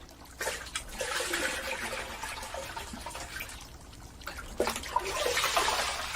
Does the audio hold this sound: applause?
no